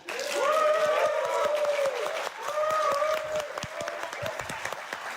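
Audience applause at a Snapdragon 8 Gen 4 launch event, clapping from a crowd under a loud amplified voice talking over it, the clapping continuing in the background throughout.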